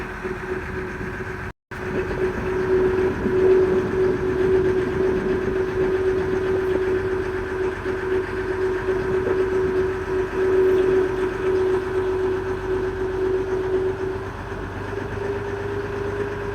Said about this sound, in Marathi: आपली बोट निघालेली आहे अर्नाळा किल्ल्याच्या दिशेने